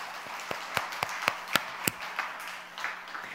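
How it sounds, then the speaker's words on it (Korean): Applause from a church congregation at a Wednesday worship service, sparse individual hand claps standing out over a soft crowd patter, moderately near and fading toward the end. "슈퍼간다고 박수 한번 부탁드리겠습니다."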